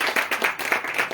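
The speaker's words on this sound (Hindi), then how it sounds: "तालियां दे" Church congregation claps together in a quick, steady rhythm, about six or seven even claps in just over a second, close and moderately loud.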